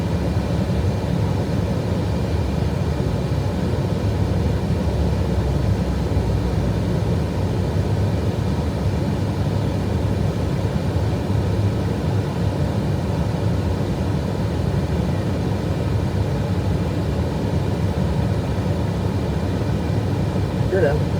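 An Airbus A320 landing on runway 18R at DFW produces a constant, heavy roar of engine and airflow that holds steady for the whole stretch, without a distinct touchdown thump.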